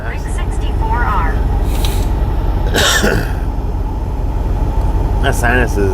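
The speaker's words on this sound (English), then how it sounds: "The cough though is that little drink I just took." A short, harsh cough bursts out midway, loud and close, against a steady background hum inside a truck cab, with a voice speaking before and after.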